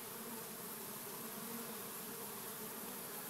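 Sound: honeybees buzzing

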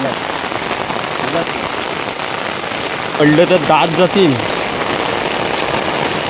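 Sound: heavy rain falling

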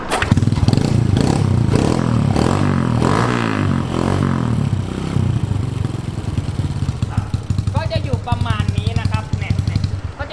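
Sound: second-hand motorcycle engine running

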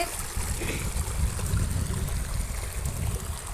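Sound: spring water pouring down a hillside on Perambalur hill

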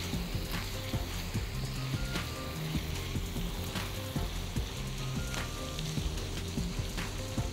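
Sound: minced meat frying in pan for bolognese

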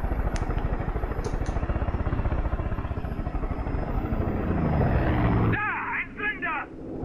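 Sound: helicopter flying in video game Far Cry 5

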